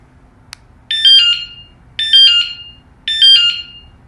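A car anti-theft alarm plays its sensitivity test tone: three loud, identical chirping electronic beeps, each about half a second long, evenly spaced after a single brief click, sounding close and alone.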